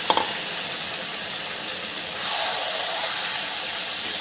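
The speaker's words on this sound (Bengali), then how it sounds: "চিকেনটা দিয়ে কষাতে থাকবে" Chicken pieces and fried onion sauté in a pan for Kashmiri chicken, giving a close, continuous hissing sizzle with a few spatula knocks at the start and a brief surge of steam midway.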